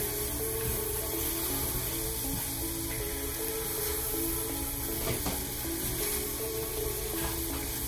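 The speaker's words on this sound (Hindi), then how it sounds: "दूध डाल देंगे, 4 हो गया, चीनी डाल देंगे 2 कप" Seven cup burfi mixture of milk and sugar sizzling in a pan while being stirred, a continuous dense bubbling hiss with scraping strokes throughout.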